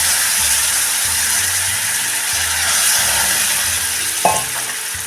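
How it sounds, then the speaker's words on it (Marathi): A pan of sizzling spice tempering for a tamarind-jaggery dal crackles loudly and continuously, with scraping stirs and a sharp burst near the end as water from the dal is added. "ह्या घोटलेल्या गाळीमधलं थोडं पाणी आपण ह्यामध्ये टाकूया म्हणजे ही फोडणी आपली जळत नाही आहे"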